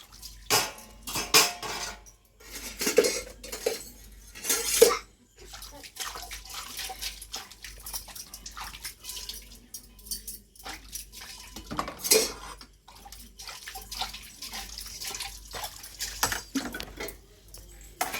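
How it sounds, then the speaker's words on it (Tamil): Dishes and cutlery clatter and clink at a sink while water runs and splashes intermittently, close by and irregular. "பாத்திரம் இருந்தது கழுவிட்டு இருக்கேன்"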